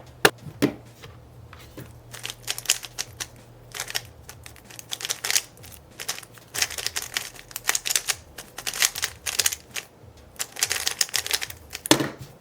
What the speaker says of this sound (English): this cube definitely has a lighter feeling and it's more clacky